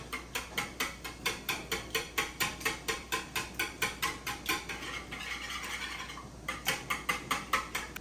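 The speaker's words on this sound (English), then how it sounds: "So now we're just going to whisk these up." Cracked eggs are whisked briskly in a bowl, the whisk giving a fast, steady run of close clicking taps against the bowl's sides. The beat pauses briefly and then picks up again, with no one speaking.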